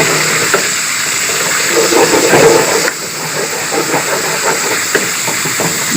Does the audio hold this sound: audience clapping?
no